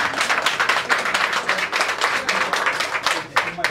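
Audience applause at an event in Saint-Louis, greeting a young woman being honored; steady, dense clapping from a crowd for several seconds, fairly close and continuous, dipping briefly near the end.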